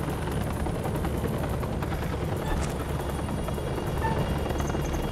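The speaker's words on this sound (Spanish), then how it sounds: "اضرب الهليكوبتر. بسرعة اضرب." A helicopter in the video game House of Ashes whirs and chops steadily and loudly throughout, with a faint crackle that may be gunfire and no voices.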